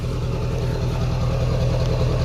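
A diesel truck engine, an LB7 Duramax, idles steadily close by, a low rumbling drone with a constant rhythmic throb and no change in pace.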